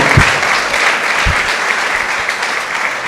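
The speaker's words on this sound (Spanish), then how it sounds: "Denle un fuerte aplauso al Señor." A church congregation claps loudly and steadily, a dense wash of many hands applauding throughout the few seconds with a couple of low thumps.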